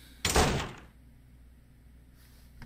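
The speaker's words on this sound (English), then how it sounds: "Was that my front door?" A front door thuds shut once inside a horror video game demo, a loud broad slam that fades into quiet room tone, with a faint click near the end.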